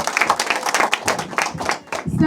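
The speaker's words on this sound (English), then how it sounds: "Give yourselves a round of applause" Graduates at a media school graduation clap for themselves, with a short, uneven burst of close hand claps and cheering voices mixed in, thinning out before a brief swell of noise at the end.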